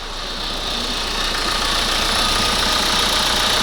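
Renault Kangoo 1.5 dCi diesel engine idling, with a check-injection warning lit and a leaking injector, giving a loud, steady close-up rumble and clatter that holds even throughout with no talk.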